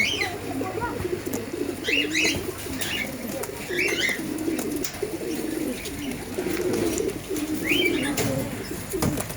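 A crowd of pigeons, including young birds, coos steadily and close by. The murmur is dense and continuous, with occasional higher chirps rising above it.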